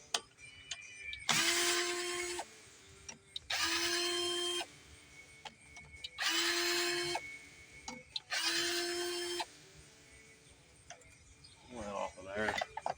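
Power tool zipping off four bolts from the engine of a Snapper rear-engine rider that sat outside for over 20 years, four distinct loud bursts of whirring evenly spaced, with quiet workshop clatter between.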